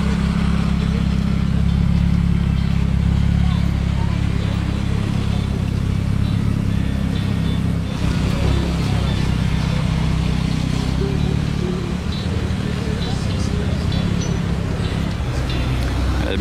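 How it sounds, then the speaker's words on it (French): A convoy of Alpine sports cars driving through the streets of Monaco, a continuous loud rumble of engines and road noise with revving swells, some talk mixed in. "Convoi d'Alpine."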